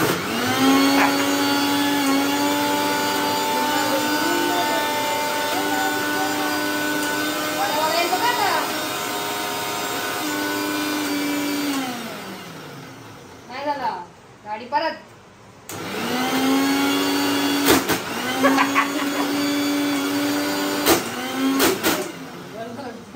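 A mixer grinder runs loud and steady, grinding medu vada batter, its motor pitch sagging under load, then stopping briefly with a few clatters before restarting; someone speaks over the whirring.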